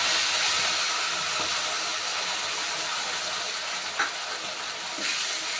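Spice paste frying in hot oil, a steady broadband sizzle that holds evenly for the whole stretch with a few faint clicks and no talking.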